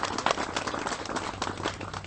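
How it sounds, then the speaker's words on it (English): Wedding guests applauding at a ceremony, a short burst of moderate clapping from a small crowd, somewhat distant and uneven. "Please give them a big round of applause, everybody."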